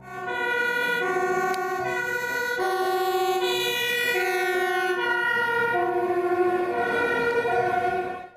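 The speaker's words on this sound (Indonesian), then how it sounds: "Di sini ada mobil pemadam kebakaran." Toy fire truck siren wailing steadily and loud on its own, a continuous electronic two-tone warble with rising and falling pitch, with no voices.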